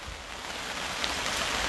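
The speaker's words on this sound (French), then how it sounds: "Il pleut, mais je suis sous l'hangar." Steady rain falls outside onto a shed roof and surrounding surfaces, a dense, continuous hiss heard close by with no voices.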